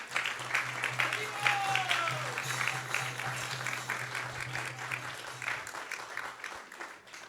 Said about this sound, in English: we should definitely give a big round of applause to all of them